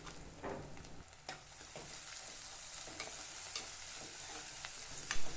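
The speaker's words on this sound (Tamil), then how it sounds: "ஆயில்லையே எல்லாம் சேர்ந்து நல்லா வதங்கட்டும்." Garlic and shallots sauté in oil for a thokku relish, giving a soft, faint sizzle broken by occasional scrapes and clinks of stirring, with no voice present.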